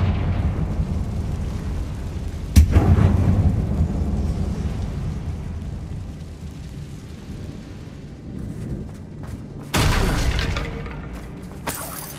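A Confringo blasting spell goes off in a closed mine resembling a tomb in Hogwarts Legacy, one sharp loud explosion with a rumbling tail, then a quieter stretch before another burst of crackling blasts near the end.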